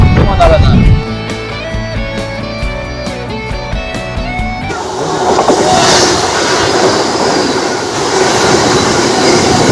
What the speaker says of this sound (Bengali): আর আমাদের ট্রেনকে ওভারটেক করলো হাওড়া রোলকেল্লা বন্দে ভারত